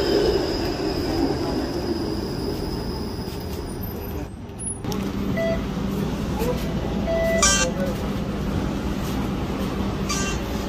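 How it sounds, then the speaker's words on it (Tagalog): A Toronto streetcar riding on its rails, heard from on board as a steady rumbling roll with brief wheel squeals and metallic clanks, and people talking faintly in the background. "Kasali kami sa streetcar ng Toronto."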